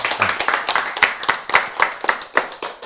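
A few people clap in an audience at a lecture, with distinct claps in a loose irregular rhythm, close and fairly loud, without talk over them.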